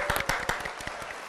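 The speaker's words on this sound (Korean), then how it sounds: "박수 한번 보내드릴까요?" A studio audience claps briefly, a short close burst of scattered hand claps that fades quickly.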